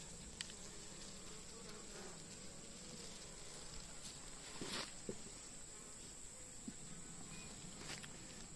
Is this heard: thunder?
no